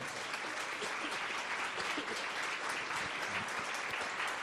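A church congregation applauding, dense steady clapping from many hands filling the room throughout.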